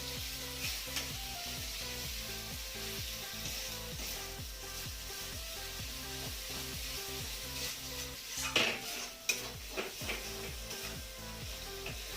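Chilli being stirred and mixed into biryani masala in a pan: continuous close sizzling and frying with rhythmic scraping of a spoon against the metal pan and a few louder clanks.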